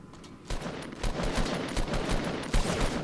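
Bursts of automatic gunfire crackle in a shooter video game, several rapid volleys in quick succession over a low background, without anyone talking.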